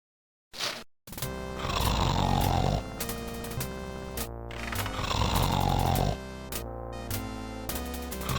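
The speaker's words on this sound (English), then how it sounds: "He snores in response." A character snores in the adventure game Laura Bow 2: The Dagger of Amon Ra, two long drawn-out rasping snores in a slow rhythm, each rising and falling, set over soft game music.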